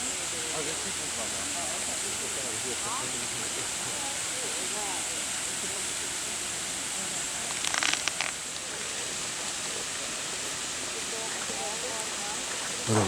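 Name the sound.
waterfall beside Ross Fountain, Butchart Gardens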